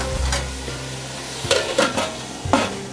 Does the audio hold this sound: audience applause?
no